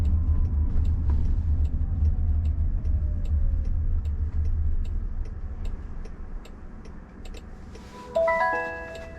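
Self-driving Waymo car slowing and pulling over, with a low steady road rumble inside the cabin, regular faint ticking like a turn signal, and a brief electronic chime tone near the end.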